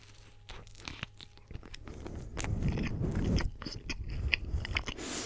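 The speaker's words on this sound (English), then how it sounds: "I'll probably only eat the sandwich for this mukbang" A cold Subway sandwich eaten up close, with crisp bites and moist chewing that build and continue through the stretch, no talking.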